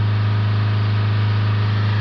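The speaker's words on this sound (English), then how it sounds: "We'll hold the revs up again," A Range Rover Evoque's 2.0-litre Ingenium diesel, with a blocked DPF, is held at 3000 RPM, giving a loud, steady, unbroken engine drone with a strong low hum throughout and no talk.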